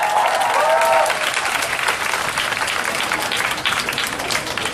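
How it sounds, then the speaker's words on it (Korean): Audience applause at a dance festival award ceremony, a steady dense wash of clapping through the whole stretch, loud and continuous after a brief tonal sound at the start. "큰 박수 한번 부탁드리겠습니다"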